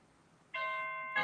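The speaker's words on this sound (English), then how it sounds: "Oh, that's my doorbell." A doorbell rings loudly indoors, a clear sustained electronic chime tone that starts suddenly halfway through and holds, then swells again at the end; no one talks over it.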